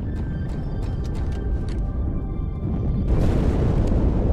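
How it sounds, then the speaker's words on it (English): A deep, sustained rumbling blast from inside the ship Athens in a Halo game, rising into a louder roaring swell partway through, with no talk. "That explosion came from inside the Athens"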